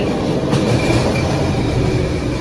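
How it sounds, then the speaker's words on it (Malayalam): A sky train pulls into an elevated station, its steady rumble and rail noise filling the whole moment at close range, loud and continuous with no talking. "സ്കൈ ട്രെയിൻ വന്നു തോന്നുന്നു"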